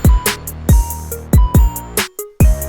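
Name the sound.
dry basic keys melody before processing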